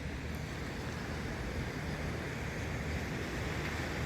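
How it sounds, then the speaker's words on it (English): Continuous ocean waves wash and rush in a dense, even roar at Panama City Beach, with a breezy hiss mixed in and no other sounds. "This water sounds peaceful to me."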